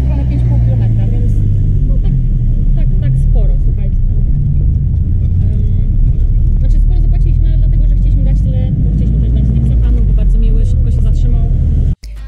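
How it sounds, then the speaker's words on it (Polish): A minibus rolls along a street in Hurghada, Egypt, its engine and road rumble droning continuously from inside the cabin while people talk over the noise. "Dobra, kochani, jedziemy na małą wycieczkę busikiem."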